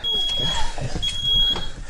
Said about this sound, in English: that's when the smoke detectors started going off.